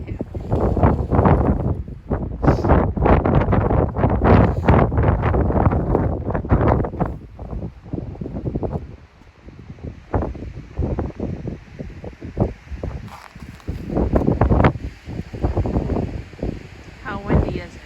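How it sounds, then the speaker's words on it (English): Strong, cold wind at Natural Bridge State Resort Park roars and buffets the microphone in heavy, rumbling gusts, loudest through the first half, then easing into choppier, intermittent bursts. "How windy is it?"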